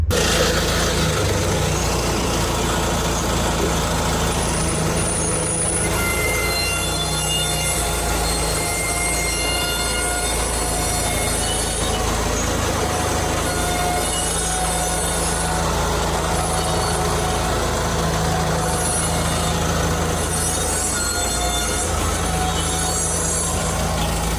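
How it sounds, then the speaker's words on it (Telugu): Worn car brake pads grinding, a continuous harsh scraping noise with thin high-pitched squealing tones running through it, steady throughout without any talking. "సౌండ్ గిజ్ అని వస్తుంది"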